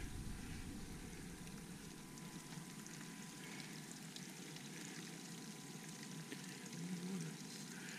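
Water trickles and splashes steadily out of a crack in Sharon Conglomerate rock beside a pump house drain, a continuous, fairly quiet outdoor flow with no talking.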